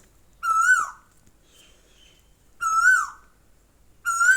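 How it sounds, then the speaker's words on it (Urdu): Asian koel repeating its call three times at an even pace, each note a bright whistle that swoops down at the end, distinct and fairly near in a quiet setting without voices. "کوئل کی آواز ساتھ ریکارڈ ہو رہی ہے، اس کو میں نہیں کٹ آؤٹ کر سکتی"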